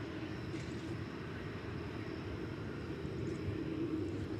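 An American passenger jet idles in line for takeoff on runway 18 left at DFW Airport, a steady, fairly distant low engine rumble with a constant drone throughout and no talk.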